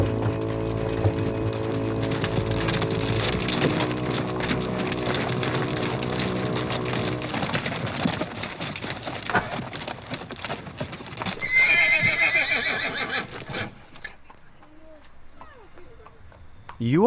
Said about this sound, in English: A caleche with 4 horses had drawn up beside us.